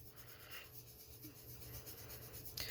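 A sharpened pencil sketches in circular motions on beige paper, a faint, dry rubbing scratch that swells and fades softly, close up and quiet, ending with a brief brighter scrape.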